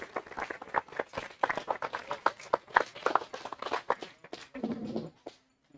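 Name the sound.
audience applause welcoming the speaker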